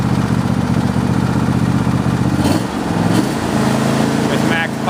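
A John Deere E160 lawn tractor engine running at slow speed, giving a steady, close, low mechanical drone that holds evenly throughout with only a slight dip in the middle.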